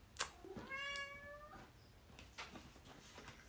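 A pet cat that is unwell gives one clear, drawn-out meow close by, followed by soft thumps and quiet room sounds.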